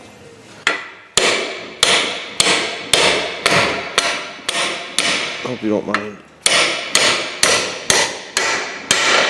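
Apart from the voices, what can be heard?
hammering a pin into a pattern makers vise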